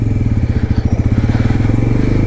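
A Pulsar N160 motorcycle engine thrums loud and close with a fast, steady pulsing beat as the bike pulls away on a ride through Nepal.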